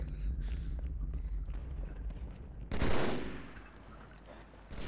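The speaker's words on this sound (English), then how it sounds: "They keep shooting at me." Enemy gunfire in Halo: The Master Chief Collection crackles as a steady dense rattle, then a louder burst of shots swells and fades near the end, with no talk over it.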